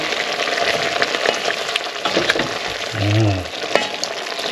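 Chicken and pork adobo sizzles in a pan with a loud, steady frying hiss and occasional stirring scrapes, joined near the end by a brief low voice.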